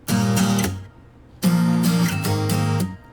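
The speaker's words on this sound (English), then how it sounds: "you record some high strings with more of a stereo separation effect and reverb" Layered guitars play two strummed passages: a dry, full strummed chord with high string parts ringing in reverb and wide stereo. Each phrase is loud and stops cleanly, with a short gap between them and no talking.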